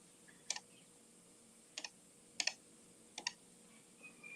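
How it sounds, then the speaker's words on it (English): A squeaky computer keyboard gives a few separate clusters of sharp clicking keystrokes, spaced about a second apart, close and clear over a quiet room. "So that's squeaky keyboard."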